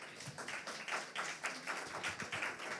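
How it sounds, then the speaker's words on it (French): An audience at a neuroscience event applauds, giving a soft, fairly quiet patter of many hands clapping that stays steady throughout. "Vous pouvez vous applaudir, là, vous le méritez."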